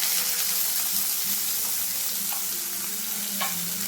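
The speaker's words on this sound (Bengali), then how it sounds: "কড়াইয়ের বাকি তেলেই আমি দিয়ে দিচ্ছি পেঁয়াজ কুচি করা" Chopped onion frying in leftover oil in a kadai for a chicken kabab gravy, a steady close sizzle with a few soft scraping stirs, no voices.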